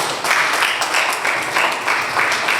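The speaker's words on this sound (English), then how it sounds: "Please, can we give her a round of applause?" A crowd at a Nigerian Bar Association branch legal education session applauds the alternate chair, loud continuous clapping filling the hall with no speech over it.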